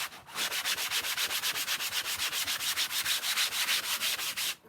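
Light hand sanding with sandpaper, a steady run of quick back-and-forth rasping strokes, close and even in rhythm, with no voices.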